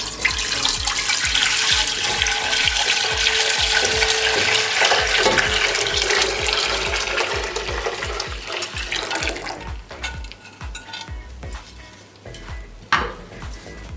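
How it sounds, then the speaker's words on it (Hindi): Milk pours steadily into a cooking pot for carrot kheer, a loud continuous splashing gush with rhythmic low thumps, then tapering into quieter dribbles and clinks of the pot near the end. "सबसे पहले पतीली में दूध डाल देंगे।"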